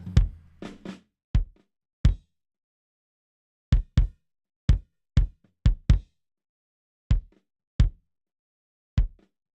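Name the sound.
kick drum track through Waves C1 noise gate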